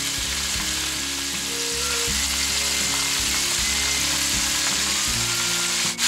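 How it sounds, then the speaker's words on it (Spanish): Pieces of cod and slices of bread fry in sunflower oil, giving a dense, steady sizzle and crackle with low bubbling throughout and no talking. "Freímos el bacalao, le pondremos las rebanadas de pan para que vayan friendo."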